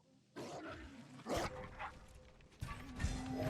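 A dog barks in the Ghost of Tsushima video game, a few separate sharp yips and barks at middling distance with short gaps between, set against quiet ambient background.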